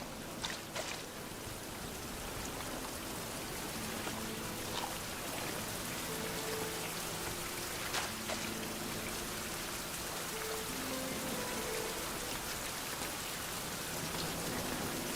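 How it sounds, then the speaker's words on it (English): Steady rain pours down in the survival game Fountain of Youth, a dense, even hiss of drops on surfaces that runs unbroken throughout with no voices. "It's raining again."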